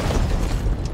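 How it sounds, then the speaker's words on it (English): A grenade explodes in the video game Hunt: Showdown, a loud, dense, continuous low boom with rumbling rubble lasting the whole second. "That was a good nade."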